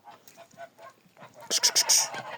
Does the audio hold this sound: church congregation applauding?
no